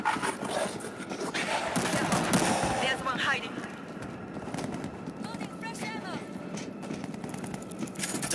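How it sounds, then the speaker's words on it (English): An auto turret fires in a video game, rapid machine-gun bursts and continuous gunfire close by, mixed with battle noise while voices talk over it. "Auto turret, up and running."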